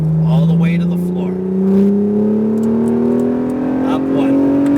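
Acura NSX engine pulling hard at full throttle on a race track, its tone climbing steadily and close as the revs build, with a voice talking over it.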